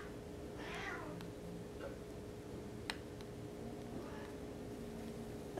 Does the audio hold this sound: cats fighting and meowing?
yes